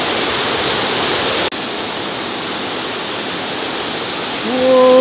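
Steady rushing roar of a private twin waterfall beside a rice-field campsite, broad and continuous, with a brief dropout near the start and a faint tonal hum creeping in at the end.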